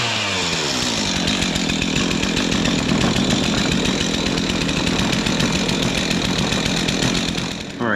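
A repaired chainsaw starts and runs at a loud, steady idle-to-high buzz right up close for several seconds, with no talk over it.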